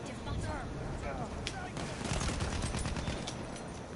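Rapid bursts of battlefield gunfire from Battlefield 1, dense and continuous with sharp cracks layered over a heavy rumbling mix, while a player's voice is heard intermittently.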